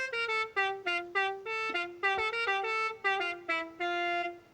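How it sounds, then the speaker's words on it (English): A Deck the Halls novelty car horn from Forza Horizon 5 honks the carol melody as a run of bright, buzzy, separate horn notes, steady and clear and close, with no talking over it. "we've got the Deck the Halls car horn"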